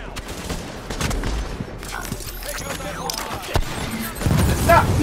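Rapid turret gunfire in The Division at the Queens Tunnel Camp, steady bursts of automatic fire with a few heavier hits, under excited talk.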